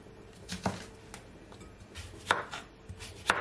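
A knife chops cucumber on a board for juice, giving a few sharp, close knocks spaced about a second apart, with softer cuts and faint handling between them.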